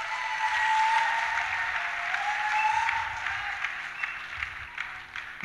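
Congregation at a 2019 church seminar applauding and cheering for the Lord, a dense sustained wave of clapping with raised voices that swells near the start and tapers off, with scattered claps at the end.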